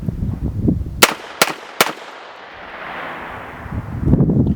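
Three sharp gunshots from a CMMG Banshee MK10 10mm pistol, fired in quick succession about half a second apart, loud and close, each followed by a brief echo, with low rumbling noise before and after.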